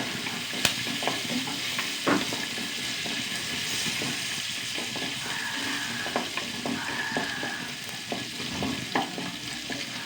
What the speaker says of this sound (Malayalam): ഇതെല്ലാം ഒന്ന് മൂത്ത് വരട്ടെ